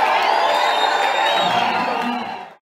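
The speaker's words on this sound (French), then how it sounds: "le numéro 450 de la Tchangou a reçu des ovations de la foule" A packed hall crowd roars in ovation, dense sustained cheering and whooping that holds steady, then cuts off abruptly near the end.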